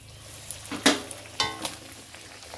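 Luchi puffing in hot oil in a home kitchen, a faint bubbling sizzle broken by a few sharp crackles and utensil clicks, no speech.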